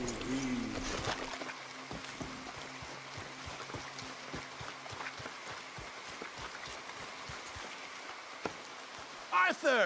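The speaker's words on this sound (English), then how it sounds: "Come on, it's raining." Steady rain falls in Red Dead Redemption 2, a continuous soft patter over a low ambient hum, with faint repeated thuds like footsteps and brief voices at the start and end.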